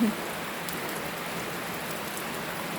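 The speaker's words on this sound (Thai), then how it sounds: "สายโยกของเราเจอน้ำฝนนะคะ เต้นใหญ่เลยนะคะ" Steady rain patters down in an even hiss where a baby elephant plays outdoors, a continuous wash of drops with no distinct voices.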